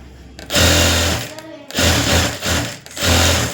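A sewing machine stitching fabric for a skirt runs in loud, close bursts, starting and stopping about four times with brief pauses between runs.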